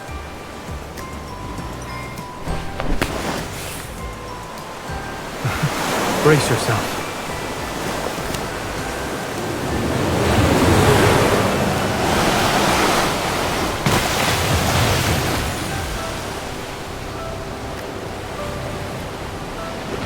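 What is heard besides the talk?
ocean waves, from the video game Love and Deepspace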